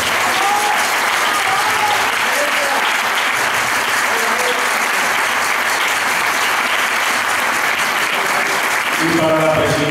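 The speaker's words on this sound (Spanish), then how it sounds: "brindemos un aplauso a esas personas que tanto trabajan para todos nosotros" A crowd applauds volunteer board members at a Pilares 2024 gathering in Puerto de Sagunto, Valencia, with dense, loud, sustained clapping throughout and a few voices calling out near the end.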